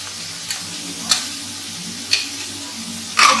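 Ginger-garlic paste and turmeric powder sizzle in a pan, a low hiss punctuated by four sharp spoon taps and clinks against the pan, close and moderately loud.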